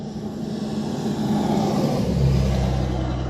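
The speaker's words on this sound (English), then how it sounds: "There's another fucking goddamn car coming this way." A car approaches and passes on a gravel road, its engine and tire rumble building steadily and growing louder and closer toward the end, with no talk over it.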